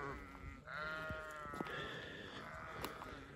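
Sheep bleating on a spring pasture: a few wavering, nasal bleats rise over a steady outdoor hum, moderately close, with one long cry followed by shorter overlapping calls.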